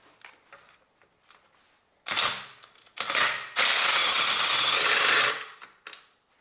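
Ratchet wrench loosening a bolt on a Honda Civic R18 1.8 engine during a clutch replacement: two short bursts of rapid clicking, then a longer loud ratcheting run of about two seconds, close by, with no voice over it.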